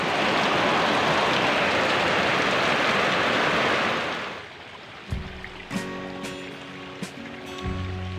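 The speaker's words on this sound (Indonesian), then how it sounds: "Hujan lagi teman ya, hujannya benar-benar gede nih teman." Heavy rain pours down beside a rice-field ditch while someone fishes for snakehead, a loud, dense, hissing roar that cuts off after about four seconds, leaving quieter scattered clicks and knocks.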